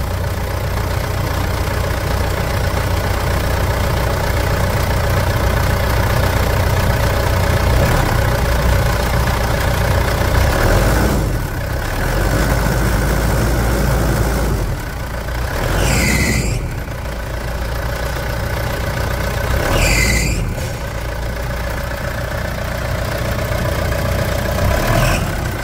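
A Mitsubishi Pajero Dakar with the 3.2 engine runs at a steady close idle with a constant low drone and an underlying fine ticking, rising briefly in a few short revs before settling back to idle, with no talk.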